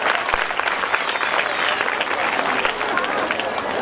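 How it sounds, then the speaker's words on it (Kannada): Loud, dense applause from a crowd cheering a guru at a temple fair, continuous rapid clapping close and full throughout. "ಗುರುಗಳಿಗೆ ಒಂದು ಜೋರಾಗಿ ಚಪ್ಪಾಳೆ ಬರಲಿ"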